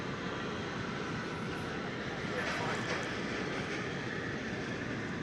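Jet noise from a UPS Boeing 747 and an American Airlines jet in oneworld aluminum livery at DFW Airport, a steady distant rumble and roar heard under people talking.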